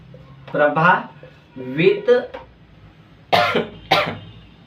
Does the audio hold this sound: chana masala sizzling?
no